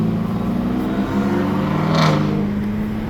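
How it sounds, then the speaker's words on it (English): Pickup trucks driving aggressively on the road: a steady, close engine drone with a brief swell of revving and road noise about two-thirds of the way through, with no talking. "there's the pickup trucks"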